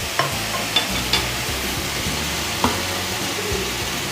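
Soy sauce going into potato manchurian sizzling in a pan, with steady frying hiss and a few sharp stirring clinks and scrapes of a utensil against the pan.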